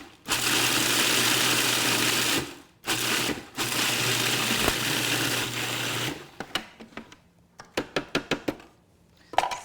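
A kitchen grinder whirs loudly and steadily while grinding flax and sunflower seeds, stopping briefly twice before cutting out, followed by a string of sharp tapping knocks.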